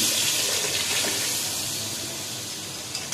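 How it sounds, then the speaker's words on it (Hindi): Homemade lassi pouring steadily into a cooking pot for kadhi pakora, a continuous broadband liquid gush at close range with no talk over it. "के लस्सी इसमें जाएगा।"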